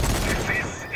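Gun turret firing at zombies in the Zombie Army 4: Dead War video game, a dense, continuous burst of booming automatic gunfire lasting about a second.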